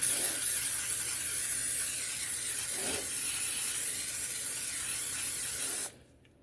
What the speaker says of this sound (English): I do not have olive oil at the moment, but I do have some olive oil spray,